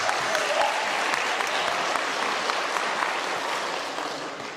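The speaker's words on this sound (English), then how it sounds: "Clap it up, yeah." Applause from an audience at a college signing day event, a steady wash of many hands clapping at once that holds evenly and then tapers slightly toward the end.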